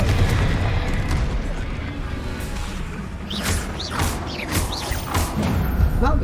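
Blasting spell effects in a wizard action game, a dense, loud wash of booming impacts and crackling bursts with sharp whooshing flourishes rising over a steady rumbling bed throughout.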